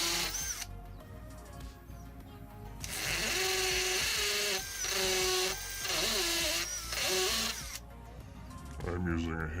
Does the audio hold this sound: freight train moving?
no